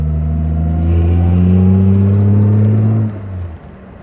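A 1952 Jaguar engine hums loud and close at a steady pace on the open road, the tone rising gently as it pulls along before easing off toward the end.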